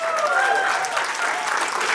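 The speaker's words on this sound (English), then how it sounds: "Let's give our line announcement another big round of applause." Passengers aboard a Singapore Airlines inaugural business-class flight from Singapore to San Francisco break into a sustained round of clapping, dense and even across the cabin, with a voice briefly heard over the applause.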